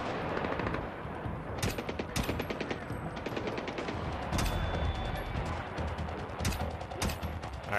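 Gunfire in the video game Splinter Cell Blacklist: rapid bursts of automatic weapon fire crack repeatedly over a busy, rumbling game soundscape.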